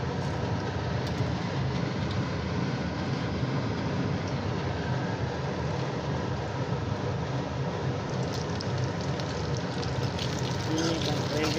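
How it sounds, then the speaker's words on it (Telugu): Snack pieces made from idli frying in hot oil with cumin seeds, giving a dense, continuous sizzling hiss that stays steady and close throughout. "ఇట్లా వీటిని కూడా ఇప్పుడు ఆయిల్లో వేసుకుని ఫ్రై చేసుకోవాలన్నమాట."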